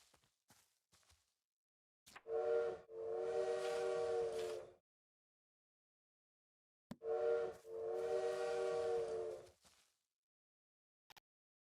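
In the video game Little Witch in the Woods, a bird imitates a train whistle: two long, loud, tonal whistle blasts separated by a pause, each preceded by short clicks, with faint ticks around them and no speech.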